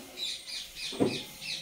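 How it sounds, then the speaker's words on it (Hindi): Birds chirp in short bright bursts several times, with a low throaty coo-like sound in the middle, fairly close and quiet, with no speech. "ये देखो दोस्तों तिली पड़ी हुई है तो कितने सारे कबूतर आ गए हैं पीछे की साइड"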